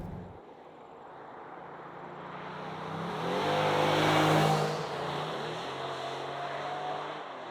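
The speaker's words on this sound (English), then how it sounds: "let's go for a bit of a punt around our track. I'll pop this into sport mode" A 2023 Jeep Grand Cherokee driven around a track in sport mode, its engine droning and rising in pitch as it accelerates to a loud peak, then easing back to a steady hum, heard from inside the cabin with no voice.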